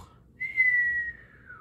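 A single clear whistled tone, held steady for about a second and then sliding gently downward, sounds alone in a quiet room during a children's Orff music lesson.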